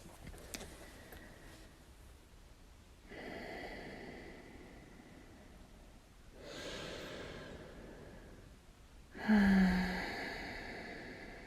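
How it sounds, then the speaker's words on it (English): A person breathes in a slow yoga flow, drawing three long audible breaths, the last one a louder exhale, close to the microphone over quiet background music. "Exhale to fold."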